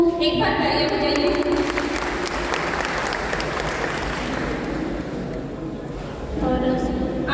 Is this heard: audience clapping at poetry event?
yes